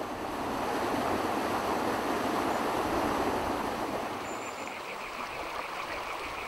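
Mountain stream water in Arabia flows in a steady, dense rush, close and constant throughout with no voices.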